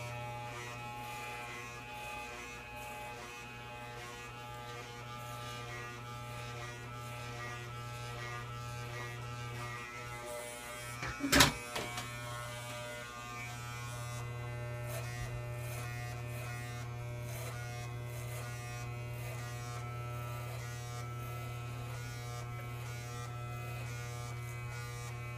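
Electric hair clippers buzz steadily and fairly quietly while cutting a hard-part zero fade in a gentleman's haircut, with a constant low hum and one short, sharp clatter partway through.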